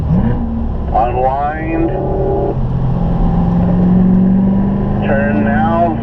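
A Corvette engine at a Spring Mountain driving school track revs hard in fourth gear, a loud, continuous drone that rises and falls in pitch as it climbs through the gear, with an instructor's voice speaking over it.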